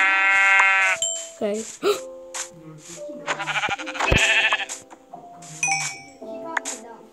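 Sheep in a Minecraft-style video game bleat several times in short bursts alongside game sound effects, with a player talking briefly.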